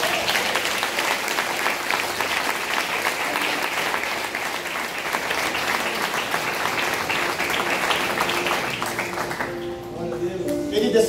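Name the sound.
church congregation applauding the Lord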